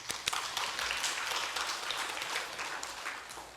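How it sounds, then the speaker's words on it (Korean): Church congregation clapping together during a Sunday worship service, a steady wash of many hands at moderate distance with a few sharper claps standing out, no talk over it. "우리 박수 한번 칩시다"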